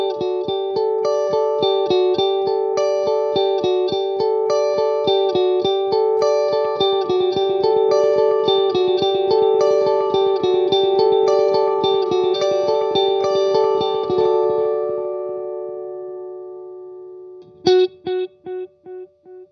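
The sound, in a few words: electric guitar through amp, then delay pedal switched on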